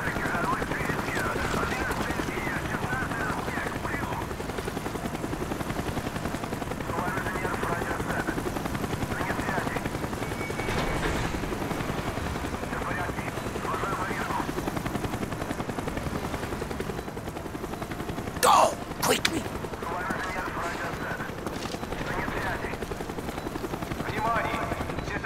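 Helicopter rotor drone in the Call of Duty: Black Ops video game, a steady continuous whir under game dialogue and ambient sound, with a couple of sharp gunshot-like bursts near the end.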